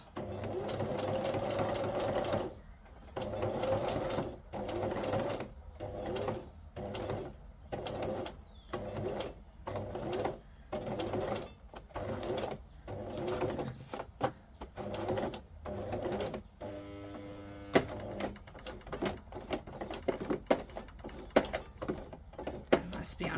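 Sewing machine stitching through fabric coated with texture paste, running in repeated bursts of rapid mechanical whirring separated by short pauses, with faint speech in between.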